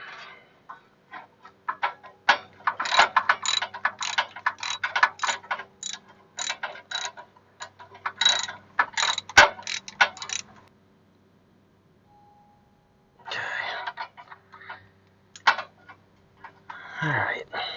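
Hand ratchet tightening the starter bolt on a Chevy Trailblazer with a 5.3L engine: rapid bursts of close, sharp clicking in several runs, with pauses and some handling noise between them.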